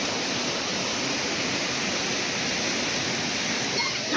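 A waterfall roars in a steady, dense broadband rush that stays loud and unbroken throughout, with no voices or other sounds rising above the water.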